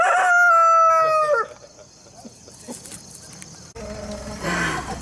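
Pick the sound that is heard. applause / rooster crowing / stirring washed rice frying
rooster crowing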